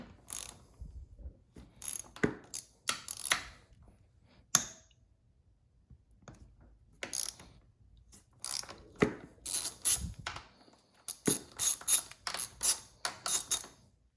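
A ratchet working pinch bolts on the front fork of a Suzuki DRZ400SM motorcycle, quick close bursts of clicking ratchet strokes separated by short quiet pauses.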